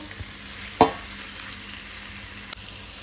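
Squid pieces with chili powder and garam masala stir-fried in a pan, a single sharp clatter of the spoon early on over a faint steady sizzle, then one small knock.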